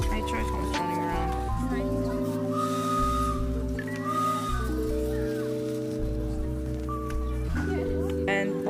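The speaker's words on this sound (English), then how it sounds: "he actually let me blow Thomas's whistle" A Thomas the Tank Engine model train layout, part of a Christmas display, sounds its whistle in several long, steady toots, loud and close, with people talking through and between them.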